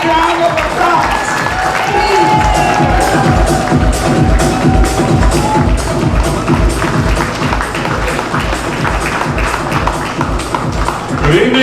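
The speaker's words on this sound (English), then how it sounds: "A big round of applause" A large crowd at a Filipino-American women's pageant opening ceremony applauds for Mayor Ron Nirenberg, with dense, steady clapping sustained for about eleven seconds, loud and close throughout.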